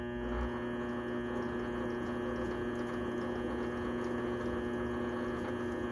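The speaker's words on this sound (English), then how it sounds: "I want to show the lathe running with the live center secured to the end." A metal lathe runs with a live center secured in the tailstock, giving a steady, quiet motor hum with a constant tone and no change in speed throughout.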